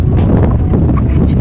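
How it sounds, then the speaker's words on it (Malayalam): Strong wind buffets the microphone outdoors amid forest near Udumbanchola, giving a loud, continuous rumbling roar throughout the short stretch. "ഇനി നല്ല കാറ്റ് അടിക്കുന്നുണ്ട്."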